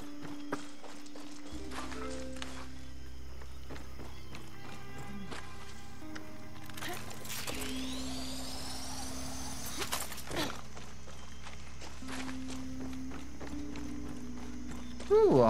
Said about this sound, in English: Ooh, a horsey. Give me horse.